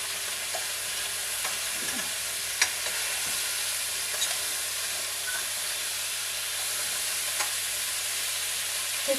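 Meat sautés in a pan with a continuous sizzling hiss, broken by occasional clicks and scrapes as it is stirred.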